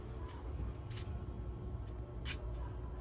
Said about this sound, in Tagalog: So dito kayo mag-spray sa bandang likod ng cogs pag ganun.